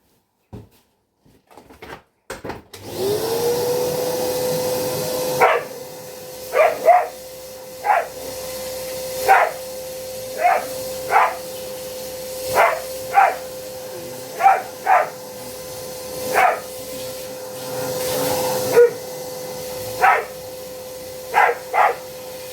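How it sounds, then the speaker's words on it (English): A hoover runs steadily while vacuuming around the tailgate shut of a Mk1 Ford Fiesta, a constant whine broken by repeated short bursts of louder sucking and scraping as the nozzle moves along the edge. "we're going to get the hoover and hoover around the shut so that that can go on nice and clean"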